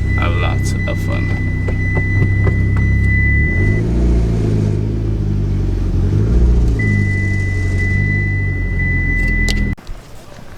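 A Mitsubishi Evo X gives off a close, deep rumble with a steady idle and a small rev, while a faint tone whines in the background, people talk over it, and everything stops abruptly near the end.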